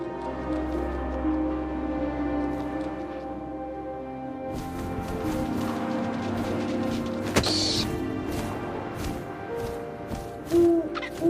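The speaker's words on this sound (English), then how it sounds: "And suddenly, I was an owl." Owl hooting in the video game What Remains of Edith Finch, low hoots sounding over ambient wind and atmospheric game noise, with a few thuds and rustles later.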